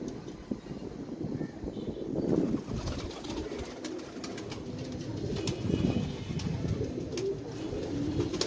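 Plain, uncoloured pigeons cooing in a park, a soft continuous murmur of low coos from several birds, with a brief flutter of wings and light outdoor wind.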